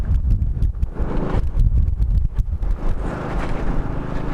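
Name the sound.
strong wind during windstorm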